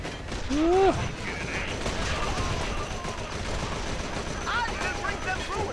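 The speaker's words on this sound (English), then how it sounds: "With a bombing of your radio tower." Bombing of a radio tower in a war video game, a sustained rumble of rapid gunfire and explosions with mechanical clatter and brief high whistling tones; a voice speaks early on over the battle noise.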